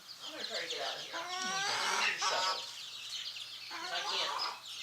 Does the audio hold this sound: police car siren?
no